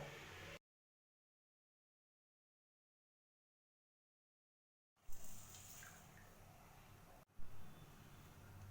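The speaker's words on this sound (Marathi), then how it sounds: "सर्व साहित्य दोन पाण्याने स्वच्छ धुवून घ्यायचं" Mixed lentils, including chana dal, moth dal and chawli dal, are rinsed in water in a kitchen. Brief splashing comes first, then a long silence, then a longer stretch of swishing, pouring water broken by a short pause.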